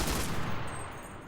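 A powerful-round gun with a decent rate of fire shoots in the Normandy setting of the game Enlisted. One short, dense burst of gunfire opens, then trails off into a fading echo.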